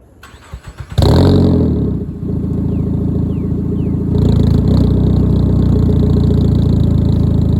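A Ford Fusion with a new exhaust cranks over and catches on a warm start, then settles into a loud, throaty idle with a couple of blips of revving.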